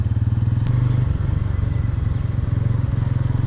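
Motorcycle engine on a morning road ride, a steady loud throbbing drone with rhythmic pulsing close by, no talk over it.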